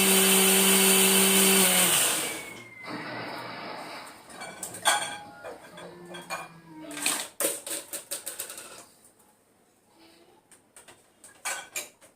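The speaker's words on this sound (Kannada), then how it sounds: "ಕಂಪ್ಲೀಟಾಗಿ ತಣ್ಣಗಾದಮೇಲೆ ಮಿಕ್ಸಿ ಮಾಡಿ" A kitchen mixer grinder grinds roasted spices with cashews, a loud steady motor whine for about two seconds, then stops, followed by clattering and tapping of jar and lid.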